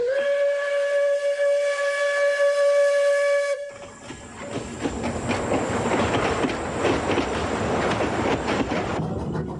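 A steam locomotive in Wales sounds a loud sustained multi-tone whistle, then pulls away with dense chuffing, hissing steam and rolling rail clatter close by, with no voices.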